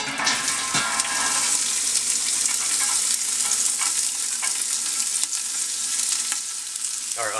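Carrots, celery and onions sauté in about a tablespoon of olive oil in a large stock pot, a loud dense sizzle with stirring scrapes and a clank near the end.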